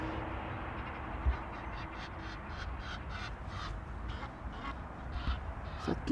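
Repeated harsh honking calls from a flock of birds at Amsterdam Schiphol Airport, somewhat distant, rising and falling over a steady outdoor rumble, with a sharper call near the end.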